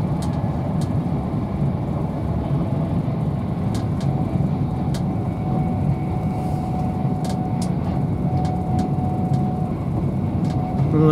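An Avanti West Coast Class 390 train runs from Lancaster to Preston with a steady interior rumble and hum. Faint rail clicks and rattles recur throughout, and no one talks.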